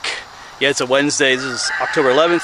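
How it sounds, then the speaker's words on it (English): Roosters crowing somewhere behind a hiker on a trail near Eagle Rock, with a nearby voice talking over the drawn-out crows. "Still hear those roosters crowing back there."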